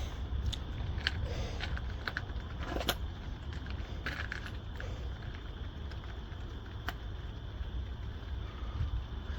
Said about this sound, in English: But I'm trying to get some of the wind that's coming in and stuff.